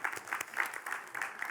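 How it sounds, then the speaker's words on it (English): A small audience clapping, brief and fairly soft, with scattered claps. "Applause for yourself."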